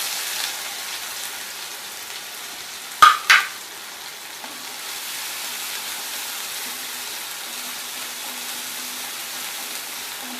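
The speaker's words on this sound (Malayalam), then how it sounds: "കുരുമുളകും ഉള്ളിയും കൂടി ചതച്ചത് ചേർത്ത്." Crushed black pepper and onion hit hot oil after mustard seeds have popped, giving a steady low sizzle with a couple of sharp stirring clatters near the start, no talking.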